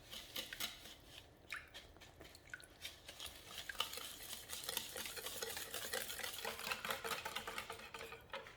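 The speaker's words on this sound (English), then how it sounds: "now I'm going to whisk and combine well" Milk, grapeseed oil and vanilla extract are whisked in a bowl with a fast, continuous clatter of the whisk against its sides, close and fairly quiet.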